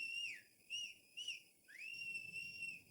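A man stands at a kitchen door whistling a mournful tune, several sliding high notes with short pauses between them, clear and alone over a quiet background.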